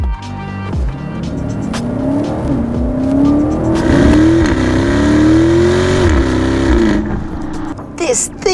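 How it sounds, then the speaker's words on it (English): A 2019 BMW X7 xDrive50i with its V8 exhaust revs and pulls hard, a loud close engine note climbing and falling in pitch through gear changes, with faint voices at the end. "The 50i, it sounds badass. BMW M, I don't know who sound tunes this exhaust."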